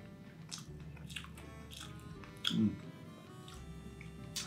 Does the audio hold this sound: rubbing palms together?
no